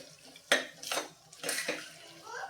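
Spoon stirring curd into potato-pea curry in a pressure cooker over low heat, with several close scraping strokes and clinks against the metal pot.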